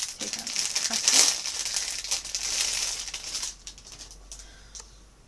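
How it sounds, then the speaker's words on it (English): Plastic wrapping is pulled off a headband, producing close, bright crinkling and rustling in irregular bursts that are loudest early on and thin out into lighter crackles toward the end. "there is this headband, I'm assuming. Take out the plastic."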